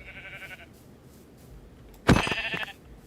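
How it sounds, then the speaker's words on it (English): A Minecraft sheep gives a short bleat that sounds clearly in the open, with a fainter tone earlier and low game ambience around it. "there's a sheep over there"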